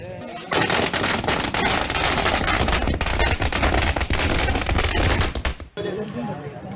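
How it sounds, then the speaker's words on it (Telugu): Firecrackers set off by local people celebrating in Medak, Telangana, crackle in a loud, dense, continuous barrage of rapid pops for several seconds. The barrage then stops abruptly, leaving quieter background noise. "స్థానిక ప్రజలు బాణసంచా కాల్చి సంతోషం వ్యక్తం"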